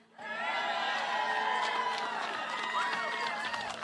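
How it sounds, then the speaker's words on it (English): A rally crowd claps and cheers in a played-back recording, with sustained, fairly faint cheering and whoops and voices mixed through the noise. "Do you hear those people clapping?"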